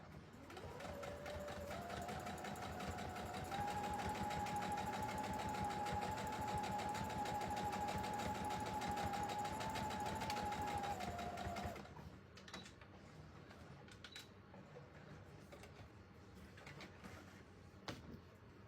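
Sewing machine stitching a large smiley-face pillow, running in a steady close whirring buzz for about twelve seconds before stopping, leaving quieter handling sounds.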